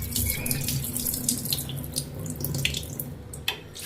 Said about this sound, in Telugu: ఇప్పుడు నార్మల్ వాటర్ వేసుకొని కడుక్కుందామండి